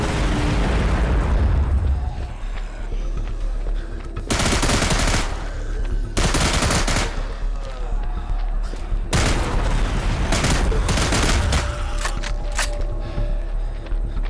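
Gunfire and a barrel exploding in the zombie shooter Into the Dead 2 arrive in several loud bursts of shots and blasts over steady game background noise.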